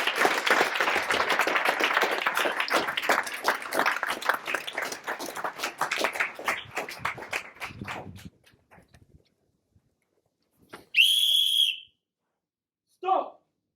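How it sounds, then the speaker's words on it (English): Conference audience applauds a keynote speaker with dense, loud clapping that thins out and fades over about eight seconds, followed after a pause by a sharp whistle and a brief shorter whistle. "Please give a big round of applause"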